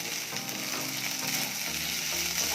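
Paneer pepper fry sizzling in a pan, a steady, bright frying hiss that fills the whole moment, with faint clicks and tones underneath.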